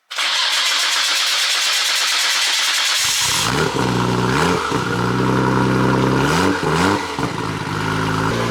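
A Nissan Skyline with installed mods cranks on the starter for about three seconds, then fires into a loud, rough idle and gives several sharp revs that rise and fall, close by.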